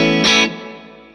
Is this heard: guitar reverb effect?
yes